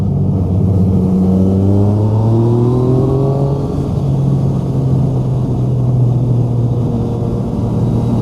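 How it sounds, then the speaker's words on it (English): A Yamaha Tracer motorcycle fitted with a Scorpion aftermarket exhaust revs on a Snowdonia mountain pass. The engine note climbs in pitch, then holds a steady, loud, close drone. "I've got a Yamaha Trace with a scorpion exhaust."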